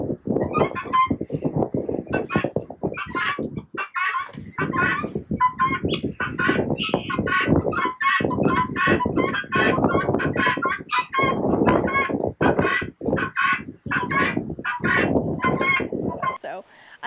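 Loud, continuous squawking and clucking from a flock of guinea fowl and chickens, harsh repeated calls overlapping with barely a pause, close by.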